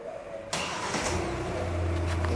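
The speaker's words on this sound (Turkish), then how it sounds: "Çalıştırın arabayı." A Kia Sportage engine cranks and catches about half a second in, then settles into a steady idle hum, fairly close with no talking.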